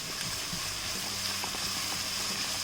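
Onions sautéing with sugar and salt in a pan for a sweet and spicy egg curry, a steady soft sizzle with faint scraping from stirring, close and continuous with no talking.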